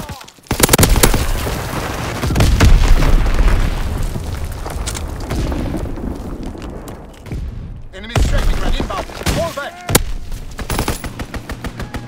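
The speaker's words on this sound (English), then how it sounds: "Enemy bomb incoming. Get to cover." Enemy bomb explosions in the video game Call of Duty WWII: loud booms and rumbling blasts mixed with gunfire. A radio-style voice speaks partway through.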